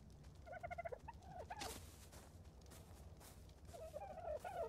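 Bird calls come from a dodo in ARK: Survival Evolved: warbling, gobbling calls open and close the stretch, over a low steady game background.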